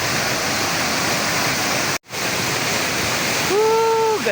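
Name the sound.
waterfall more than 20 feet high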